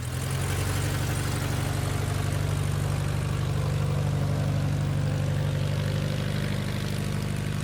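An RV-4 light aircraft's propeller engine drones steadily and loudly from inside the cockpit in flight, a constant buzzing hum with a strong low throb and no breaks.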